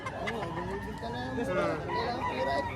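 A rooster for sale at a chicken market in Batangas crows nearby, loud and drawn out, while someone talks over it.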